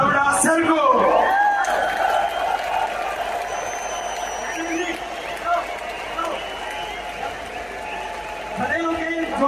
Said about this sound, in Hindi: खड़े होकर जोरदार तालियों से हम सम्मान करेंगे।